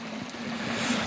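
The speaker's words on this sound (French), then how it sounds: "c'est pas une petite mais une cascade un peu plus grosse" Water rushes steadily down a fairly large cascade, a continuous broadband hiss with a faint low hum underneath, swelling slightly toward the end of a very short moment.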